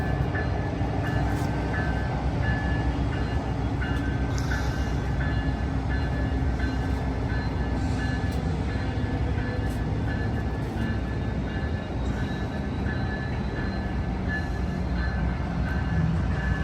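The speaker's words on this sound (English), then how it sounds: "this is Amtrak 527 going to San Jose. SC44 Siemens Charger 2124 leads off." An Amtrak Capitol Corridor passenger train led by a Siemens Charger SC44 locomotive departs a station, a loud, steady engine drone with a sustained tonal whine and rolling rail noise, close by throughout.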